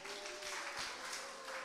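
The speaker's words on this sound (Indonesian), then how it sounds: "Tepuk tangan dulu dong." Applause from a church congregation at a Sunday service, a steady wash of clapping that fills the short moment at moderate level, with a sustained tone running underneath.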